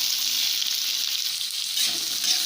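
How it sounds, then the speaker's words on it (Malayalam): Chopped onions hit hot oil in a pan for a Kerala onion-tamarind curry, giving a loud, steady sizzle and crackle throughout with no voices. "എണ്ണ ചൂടായി അതിലേക്ക് നമ്മൾ ഈ ഉള്ളി അരിഞ്ഞത് ഇടുന്നു"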